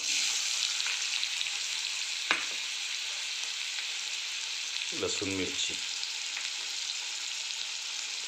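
Loud, steady sizzle of onion frying in oil tempered with mustard seeds, constant throughout, with a brief voice speaking twice over it.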